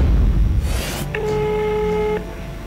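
A telephone number is dialed, with a steady run of DTMF tones lasting about a second over a loud, rumbling background, with no talking.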